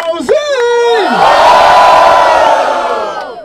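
A crowd at a rap battle in Barueri, São Paulo roars and cheers loudly, a shouted whoop leading into a sustained wall of massed voices that fades slightly at the end.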